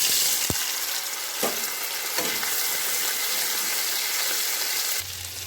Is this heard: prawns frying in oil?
yes